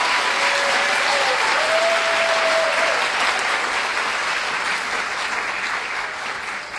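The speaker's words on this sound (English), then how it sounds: "Let's give these kiddos a quick round of applause." A room at a special meeting breaks into sustained applause for students, a dense, even patter of many hands clapping that holds for several seconds before gradually thinning, with a brief tonal sound near the start.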